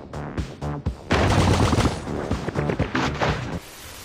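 Video game gunfire rattles out as enemies are shot, short bursts and rapid volleys with crashing impacts, loud and close, broken by brief gaps.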